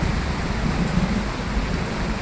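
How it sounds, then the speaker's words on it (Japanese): Torrential evening rain pours down during a thunderstorm, a loud, steady hiss and roar of falling water with a low rumbling undertone, continuous and without voices. "雷が鳴ってます。"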